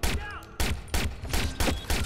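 Rapid bursts of gunfire from the Watch Dogs video game, several loud repeated volleys in quick succession filling the short moment with no talk over them.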